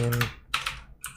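A terminal command is typed on a computer keyboard as a few close, crisp key clicks in quick irregular succession, with a brief hum at the start.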